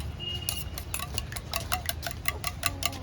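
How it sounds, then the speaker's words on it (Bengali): Eggs being beaten in a bowl with a spoon, a quick, regular run of clinking taps against the side, close and distinct, with no talk. "ডিমডির বাড়া করে গুলে নিই চামচ দিয়ে"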